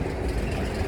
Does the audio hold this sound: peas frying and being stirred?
no